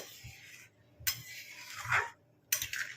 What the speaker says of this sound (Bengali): এরকম নাড়িয়ে নাড়িয়ে দিলে নিচেরটা ওপরে, ওপরেরটা নিচে গেলে